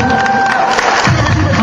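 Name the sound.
crowd applause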